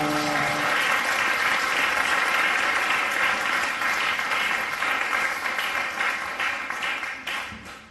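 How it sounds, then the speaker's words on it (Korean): A church congregation at a joint worship gathering in Frankfurt, Germany, applauds vigorously, a dense, sustained wash of many hands clapping that holds steady, then gradually fades away. "우리 하나님께 힘차게 영광의 박수 올려드립니다"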